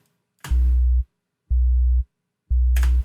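Three steady low sine tones, two identical sine waves played together, each lasting about half a second, separated by brief silences; loud and clean, with a click at some onsets.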